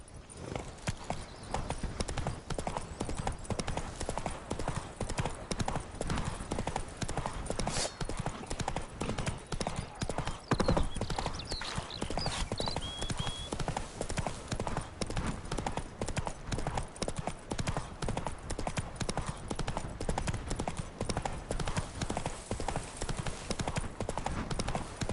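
A horse gallops steadily through the video game Witcher 3, its rapid hoofbeats drumming continuously and evenly across the whole stretch, loud and close, with faint voices underneath.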